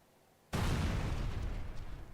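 A mask detonates in the video game Neon White with a sudden loud explosion after half a second of quiet, followed by a sustained roaring rumble that slowly tails off.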